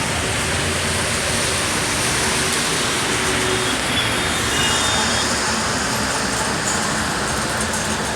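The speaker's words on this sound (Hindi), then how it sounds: "देखिए हम दिखा सकते हैं कितना ज़्यादा बारिश हो रहा है रोड पे" Heavy rain pours onto a road in steady, dense, close hiss with no break. Faint distant traffic sounds underneath.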